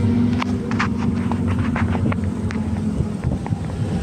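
Sea breeze rushes past riders in an open-bed vehicle: a steady, loud wind roar buffets the microphone, with rumbling vehicle noise underneath and no clear talking.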